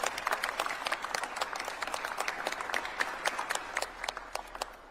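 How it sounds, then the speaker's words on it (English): An audience at a mayor's public safety press conference applauding steadily, many hands clapping at once in a dense, sustained patter. "let's give a round of applause"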